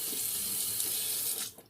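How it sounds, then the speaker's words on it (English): Hands being rinsed under a running tap at a bathroom sink, a steady close splashing hiss of water that fades out at the very end, with no voices. "Let's rinse off our hands so we don't drop the razor."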